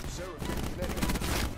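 Rapid gunfire from a tactical rifle during a jump shot in Call of Duty: Black Ops 4, a dense burst of loud cracks that runs the full moment with no pause.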